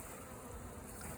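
A honey bee swarm being hived gives off a dense, continuous buzzing drone, steady and close, with no voices.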